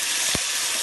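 Marinated raw banana drops into hot oil in a thick-bottomed kadai, giving a steady loud sizzle with a brief thud as the pieces land.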